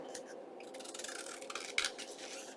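Scissors snip and rub through paper while trimming a paper envelope for a junk journal, soft close crisp cutting strokes over about two seconds, no talking.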